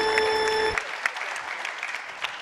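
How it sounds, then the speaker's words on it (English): Audience applause at a startup competition during Paris Blockchain Week. Steady, close clapping fills the whole short stretch, with a sustained tone sounding at the start before it cuts away. "a thunder of applause for Sheldon from Sundial."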